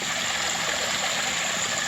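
Water runs steadily down a garden waterfall whose rock may be leaking, a close, continuous trickle and splash with no voices.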